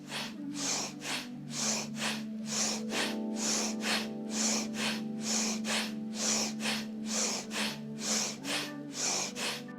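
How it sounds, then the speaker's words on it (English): Energy breathwork session with steady, rhythmic in-and-out breaths, close and evenly paced, repeating about once a second over a sustained musical drone. "Keep breathing like this, following my rhythm or going at one comfortable for you."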